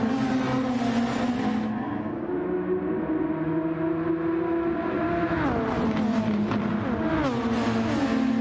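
Video game racing cars roar through a Tokyo street-circuit tunnel in a Grand Prix, engines holding loud sustained tones that shift in pitch as they rev and change gear, with no voices.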